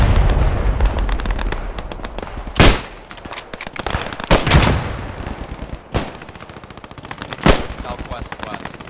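Machine gun fire in the WWII video game Post Scriptum, loud bursts and sharp single shots cracking at irregular intervals, with voices talking underneath.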